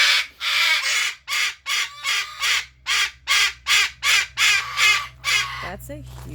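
A cockatoo screaming in a series of about a dozen harsh, loud squawks repeated roughly every half second, close and insistent, with a faint low hum underneath.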